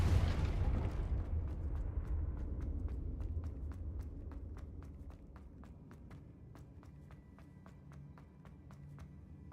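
Confringo, an explosive spell in Hogwarts Legacy, goes off as a loud, deep blast that rolls away into a long rumbling tail. A fast series of faint ticking taps follows, like debris pattering down.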